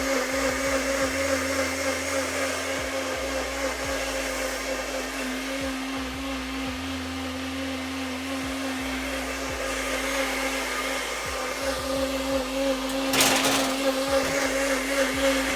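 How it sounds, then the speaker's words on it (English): A kitchen blender purees salsa of jalapeño, bell pepper and tomato, with a loud, continuous motor whir and a steady hum throughout, briefly rising near the end with no talk. "throw it back into the blender,"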